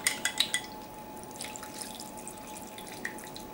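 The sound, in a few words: pouring chicken broth into a roasting dish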